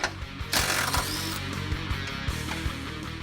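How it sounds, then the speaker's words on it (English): Ratchet wrench working on the lower K-member brace of a 2005-2014 Ford Mustang, giving close, steady rhythmic clicks over faint garage background noise. "I'll remove the lower K-Member brace."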